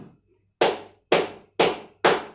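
Four muffled flamenco palma sorda hand claps, deep and dull, spaced about half a second apart after a brief pause.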